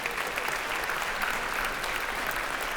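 A concert audience applauds steadily, a dense even wash of clapping at moderate volume with no talk over it.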